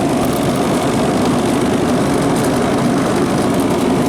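A 2013 Advantage Temptek 2 ton 460V chiller runs with compressor, pump and fan all on, giving a constant loud mechanical hum and drone with steady rattling texture throughout.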